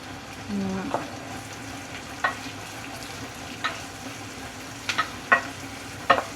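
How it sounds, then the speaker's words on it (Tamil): Curry leaves and spices sautéing in hot oil in a pan for a potato curry, a continuous sizzle with occasional sharp spatula clicks and scrapes, close up and without speech. "கரை லீவ்ஸ் எல்லாம் சேர்ந்து ஒன்றாயே வதங்கட்டும்"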